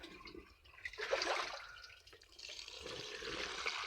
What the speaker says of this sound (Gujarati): અહીંયા આપણે હાલો પહેલાં પાણી નાખી દઈએ એક ડબલું